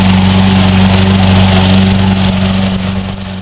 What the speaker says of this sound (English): Definitely sounds different from the electric, and you can tell, you might be able to tell the going is a lot slower, quite a bit slower on the gas mower